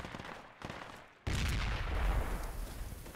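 MG3 machine gun fire in the military shooter Project Reality, faint bursts at first, then a loud sustained volley of rapid shots with heavy rumble.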